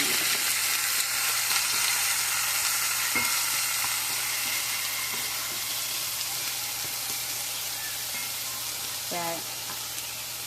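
Onion fries in a pan with a constant loud hiss and sizzle, steady for the whole stretch, with a few faint knocks and a brief clatter near the end.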